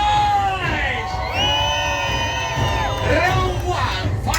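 A lively crowd cheers, whoops and shouts aboard a pirate ship cruise in Cancun, with raised voices and long sustained yells filling the clip loudly and continuously.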